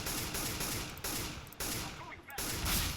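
Rapid bursts of gunfire in CS:GO competitive play, several sharp volleys cutting in and out over three seconds, loud and close.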